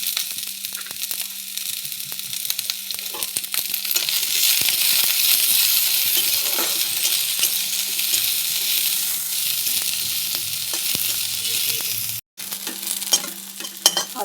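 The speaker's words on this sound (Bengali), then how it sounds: "আদা হালকা হালকা ভাজা হয়ে গেছে" Ginger fries in hot oil in a pan, giving a steady close sizzle with repeated scraping and stirring from a utensil, a brief dropout near the end, then the sizzle resumes.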